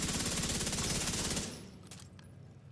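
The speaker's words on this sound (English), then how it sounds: "Do I need to shoot this backpack? Then we just shoot this." A loud, steady burst of rapid automatic gunfire in The Division 2, aimed at a backpack, hammers for about a second and a half, then cuts off, leaving a few faint clicks.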